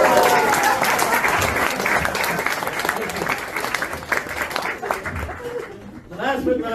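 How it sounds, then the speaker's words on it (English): Loud, dense applause from an audience at a magic show, with scattered laughter, tapering off before a voice starts talking near the end. "Round of applause!"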